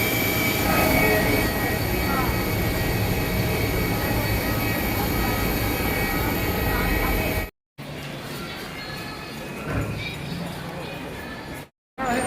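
Airplane on the ground at Delhi airport just after landing, a loud continuous engine roar and cabin rumble filling the space, briefly cut off twice near the end, with people talking underneath.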